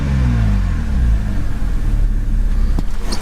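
A Ford Everest engine with a rattling, ticking hydraulic-lifter fault drops from a deep rev to a steady idle after the accelerator is released, with a low close rumble and no speech.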